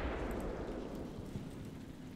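Mortar rounds exploding in the modern-warfare game Combat Mission Black Sea, heard as a deep rumbling blast that slowly decays into a low, crackling roll.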